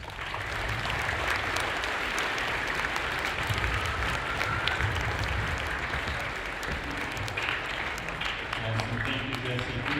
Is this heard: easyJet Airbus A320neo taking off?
no